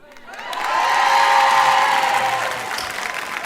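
Women in the audience at a French comedy show burst into applause and cheers, the clapping swelling within a second, holding loud, then easing off with some whoops mixed in.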